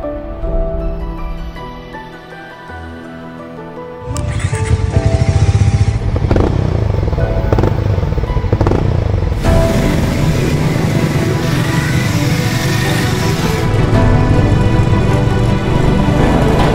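A crimson red Harley-Davidson X440 motorcycle engine starts after a quiet idle and then revs repeatedly, loud and close, with some clatter and mechanical noise throughout.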